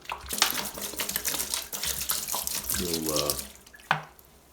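Hot water runs steadily from a tap into a container for soaking parts with vinegar, a close, continuous splashing rush lasting several seconds, with a brief voice and a short clunk near the end.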